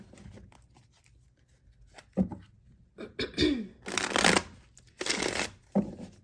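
Astrology cards being shuffled up close in several papery riffling bursts, separated by short pauses and a couple of soft throat sounds.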